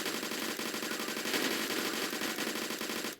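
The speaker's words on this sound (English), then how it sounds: "I'm just gonna keep shooting and hope for the best." Rapid sustained automatic gunfire from the video game BRM5 rattles continuously at an even, fast rhythm for the whole stretch, dense and steady with no gaps.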